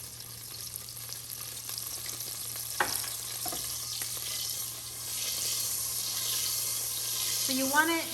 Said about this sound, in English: So you want it to sizzle